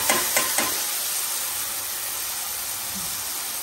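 Homemade black garam masala stirred into a sizzling pan for a drumstick curry, with three quick spoon scrapes at the start, then a steady frying hiss that continues alone.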